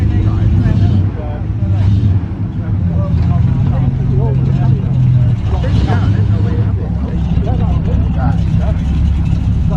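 Classic cars, a Ford Pop among them, idle and creep about at an outdoor car meet at Crewe Heritage Centre while a Corvette pulls in, low engine rumble rising and easing under close, steady talking.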